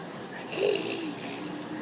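A child mimics a father's snoring with one short, breathy snore near the mic, and another person talks briefly around it.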